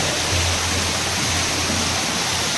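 Water gushes from horizontal bores drilled into a farm well near Rajkot, a dense, steady roar like a waterfall that stays loud and constant throughout.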